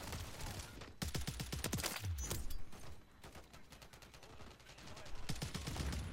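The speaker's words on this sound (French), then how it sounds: "J'ai tiré sur le gars." Rapid gunfire from a DTIR 30-06 rifle in a Call of Duty-style shooter on the Shipment map, dense volleys of sharp cracking shots with short pauses, mixed with other in-game gunfire.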